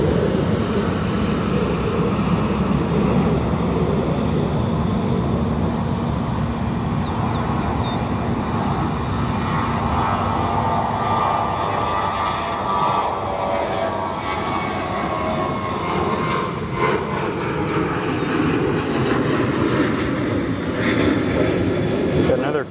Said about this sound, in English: Frontier A321neo. This one departing from 22 left.